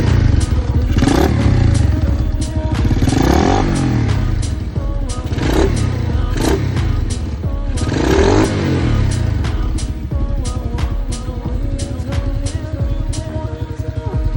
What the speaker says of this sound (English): Now we can rev it.